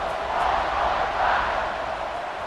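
A football stadium crowd at an off-season tournament at Georgia Southern roars steadily just before the kickoff after a touchdown, a broad sustained wash of cheering with a slight swell midway.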